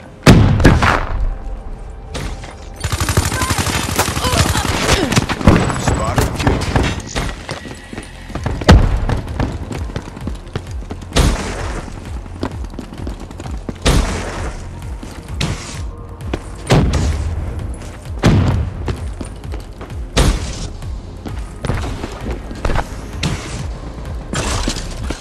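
A grenade blast and combat in Call of Duty Black Ops 3 online play, a run of loud sharp bangs, thuds and shattering bursts spread irregularly over a tense background.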